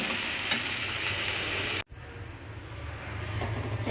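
Potatoes fry in a hot pan with a strong, dense sizzle that cuts off abruptly, then resumes softer and builds back up.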